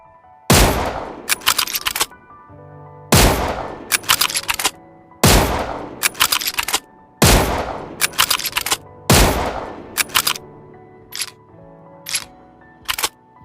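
Loud, close rifle shots from Mosin Nagant and Kar-98k bolt-action rifles in PUBG Mobile, five sharp booming reports spaced a few seconds apart, each followed by quick metallic bolt-cycling clicks.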